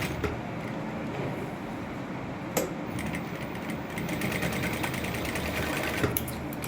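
A sewing machine stitching a collar runs in a steady rapid mechanical chatter, with a couple of sharp clicks along the way.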